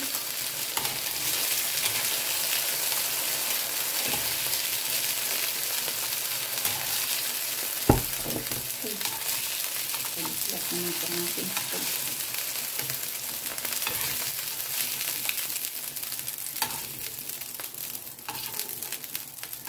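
Pork liver, potato and bell pepper stir-fry in a hot pan with a continuous loud sizzle, and a spatula scrapes and stirs now and then, with one sharp knock partway through.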